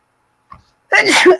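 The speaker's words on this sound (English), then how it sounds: "getting ready to sneeze, excuse me" A single loud sneeze bursts out after a faint intake of breath.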